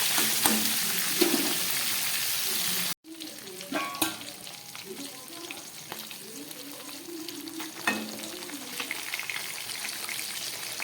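Close, crackling sizzle of fresh fish pieces frying in hot oil, continuing after a brief cut, with occasional utensil clinks and no talking.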